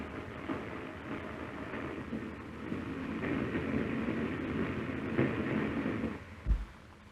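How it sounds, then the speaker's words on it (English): The Lakes Express steam train of 1938 speeding north toward the Lake District, a continuous rumbling roar with faint rhythmic rail clatter, swelling slightly near the end with a brief low thump. "Industrial England is flung behind, and still the train speeds on."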